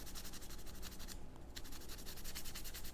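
A Scotch-Brite pad scrubs the finish off a wooden Smith & Wesson revolver stock. Close, rapid back-and-forth rubbing strokes run steadily, with a brief pause midway.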